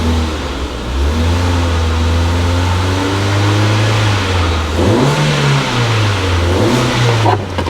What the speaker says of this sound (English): Get a bit of a rev.